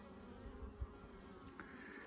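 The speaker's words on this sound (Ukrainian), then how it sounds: "Також бджоли працюють, подивіться" Soft, steady buzzing of honey bees at a hive hums under faint outdoor background noise, with a few brief louder buzzes as bees pass close by.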